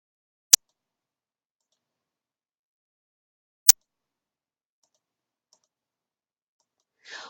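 Computer mouse clicking boxes on an online registration page: two sharp, isolated clicks about three seconds apart in near silence, close and crisp, with a faint brief rustle at the end.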